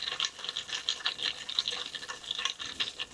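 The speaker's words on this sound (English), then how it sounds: "Give that a good stir." A compostable paper straw stirring an iced decaf drink, giving a steady soft scraping and swishing of ice and liquid, close and continuous at low level.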